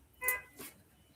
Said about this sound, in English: Just heard someone honk outside.